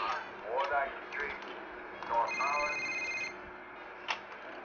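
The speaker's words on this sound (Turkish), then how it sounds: "Telefon." A telephone rings in the game GTA IV, with short electronic ring tones sounding in bursts against game audio and someone talking over it.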